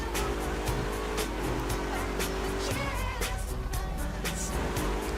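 A car engine in the video game GTA hums steadily with shifting pitch as it drives, with faint voices in the background.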